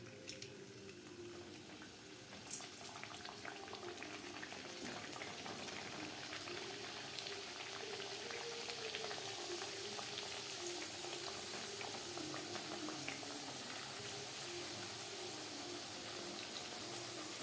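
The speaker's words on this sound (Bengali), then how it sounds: "পাপড়ি ভাজবো মিডিয়াম টু লো ফ্লেমে।" Papdi frying in hot refined oil in a kadai over a medium-low flame, a steady, dense bubbling sizzle that holds at an even level throughout with no talk.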